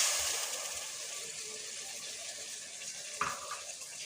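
Water hits frying beef masala in a pan, giving a loud, continuous sizzle close by that slowly eases, with a brief stirring clatter near the end.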